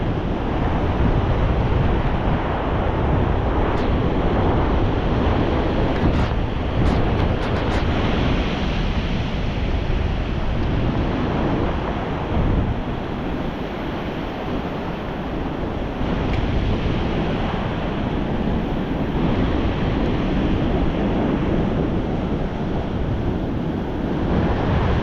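Strong wind buffets the microphone over steady crashing surf while standing in the water at a beach, a continuous loud roar of gusts and breaking waves with no talk.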